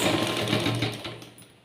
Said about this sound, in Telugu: ఇదిగోండి ఇలా ఒకదాని మీద ఒకటి పెట్టుకొని ఇలా చివర సన్నగా స్టిచ్ చేసుకోవాలండి.